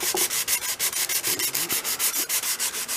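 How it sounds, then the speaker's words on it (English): Curved sandpaper works a wooden hatchet handle in quick, even strokes, each pass a loud, close rasping swish repeating rhythmically about seven times a second, with no talking. "You can curve your sandpaper if you want, like this."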